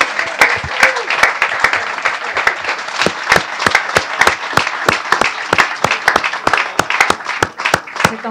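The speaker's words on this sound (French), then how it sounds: "Donc, vous les applaudissez très fort." Audience at a French club sports championship celebration clapping steadily, a dense and lively round of applause with a few sharp individual claps standing out, fairly loud.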